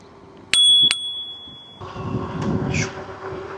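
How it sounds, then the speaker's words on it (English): Two quick bright dings ring out from the bell on a Navee ST3 Pro electric scooter, with the tone lingering afterward. Then comes the rolling rumble and rattle of the scooter coasting outdoors. "Give her a little bell action."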